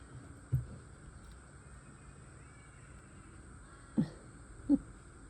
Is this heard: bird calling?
yes